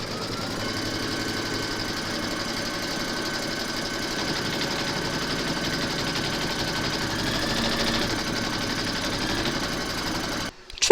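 An embroidery machine stitches through batting laid over an applique outline in a hoop, a steady continuous mechanical whir with a faint rattle that runs alone and evenly for about ten seconds before stopping abruptly.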